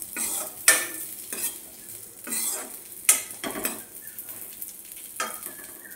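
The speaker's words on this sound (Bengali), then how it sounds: "আপনারা যে সমস্ত ড্রাই ফ্রুটসগুলো দেবেন অবশ্যই ঘিতে ভেজে নেবেন।" Dry fruits sizzle as they fry in ghee for semolina halwa, with a spoon scraping and clinking against the pan in several sharp strokes over a steady frying hiss; no voices.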